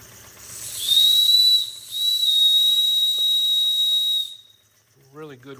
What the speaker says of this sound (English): Really good whistle.